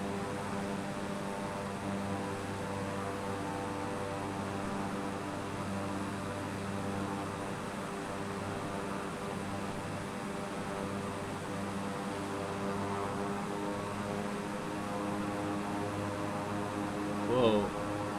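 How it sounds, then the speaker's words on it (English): Steady droning aircraft engine hum in a flight simulator game runs continuously throughout, a constant propeller-like roar with a faint voice briefly rising near the end. "Whoa, that was the engine. Hear the engines?"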